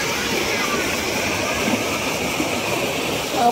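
Water rushes steadily from an opened dam outlet at Aliyar dam, a loud continuous broadband roar that holds evenly throughout, close by and with no clear speech over it.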